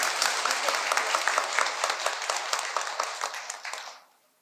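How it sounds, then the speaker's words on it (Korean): A temple audience at a Buddhist dharma lecture on breath meditation breaks into dense, steady clapping for about four seconds before it quickly dies away, with no talk over it. "이럴 때 박수를 한번 치는 거야."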